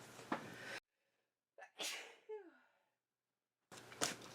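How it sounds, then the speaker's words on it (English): A single person sneezes in a quiet basement: a sharp inhaled gasp, a forceful burst, then a trailing sigh-like exhale, set between brief stretches of room noise. "I'm gonna sneeze."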